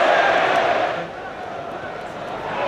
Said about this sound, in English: The crowd are enjoying it